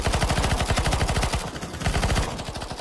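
Rapid automatic gunfire from an SMG in a video game, a steady near, loud burst of rounds with almost no pauses, briefly dipping mid-way before resuming.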